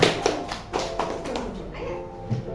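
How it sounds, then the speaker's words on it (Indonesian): Children in a classroom clap their hands, a handful of separate claps spaced about a beat apart, moderately close, followed by quieter scattered taps with some voices in the background. "Oke, tepuk tangan dong."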